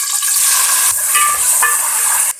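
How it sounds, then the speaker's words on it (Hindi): Two chopped tomatoes and a green chili hitting hot oil with golden-browned garlic in a pan, a loud, bright sizzle that bursts at the start and keeps crackling steadily, with a brief stir partway through. "अब हम इसमें 2 टमाटर और 1 सब्ज़ मिर्च कटी हुई ये डाल देंगे।"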